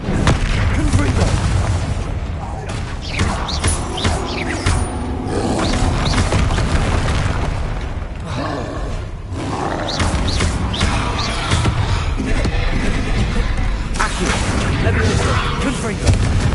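Booming blasts from the Confringo fire spell in a Hogwarts video game, loud and repeated, mixed with crashing impacts and rumbling game effects throughout.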